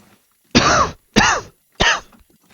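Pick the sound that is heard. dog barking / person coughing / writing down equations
person coughing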